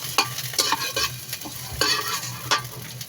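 Onion and ginger sautéing in a pan for Filipino chicken tinola, a steady close sizzle broken by several sharp scraping stirs of a utensil, with no talking.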